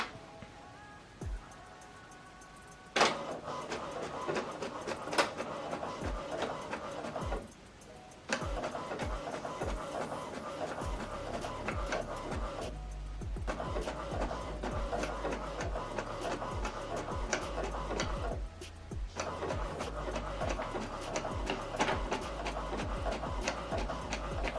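HP printer printing a page, a steady mechanical whir and clatter of rollers and paper feed with a few brief pauses, close and alone.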